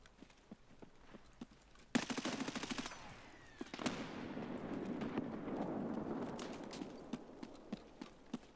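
Gunfire during an Escape from Tarkov Customs raid near the bus depot, a sharp sustained burst of rapid automatic shots followed by scattered distant single cracks and a lingering rumble, heard at a distance with no talk.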